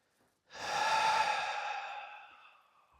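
A single long, breathy exhale during a seated yoga twist, loud and close, swelling quickly then tapering off slowly over a couple of seconds with no talking.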